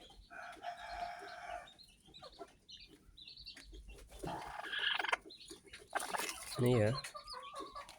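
A mother hen clucks near her newly hatched chicks, repeated throaty clucks with a few sharper calls, moderately close, with a person speaking briefly over them.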